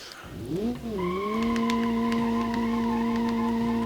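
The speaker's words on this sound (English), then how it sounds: "we have the extremely quiet sounding Ruda Sport Turbo. Oh, there's the engine." Ruda Sport Turbo engine in the racing game Automation, a steady sustained drone with a rising pitch sweep at the start that settles into a loud, even, continuous tone with faint tire-squeal overtones, heard alone.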